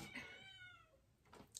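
A pet cat meows once with a clear, drawn-out, falling cry, close and fairly quiet, followed by a faint short sound near the end; no one talks.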